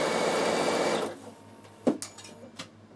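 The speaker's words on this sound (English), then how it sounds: "Now I'm going to sew all the way down to the bottom of my pants" A Bernina sewing machine stitching down a trouser leg gives a steady, close mechanical whir for about a second, then stops. A few sharp clicks and taps follow in the quiet.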